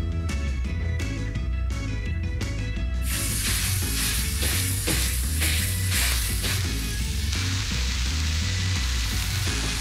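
Salt-and-pepper-seasoned burger patties frying on a grill, a steady loud sizzle that swells when more meat goes down, with background music and no talking.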